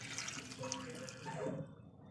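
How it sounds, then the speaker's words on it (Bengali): Water poured from a bowl into a pressure cooker holding aubergine and potato pieces, a close, steady splashing gush lasting about two seconds before it trails off. "দিয়ে দেবো 1 বাটি পরিমাণ জল, খুব বেশি জল দেবো না, 1 বাটি পরিমাণ জল দেবো।"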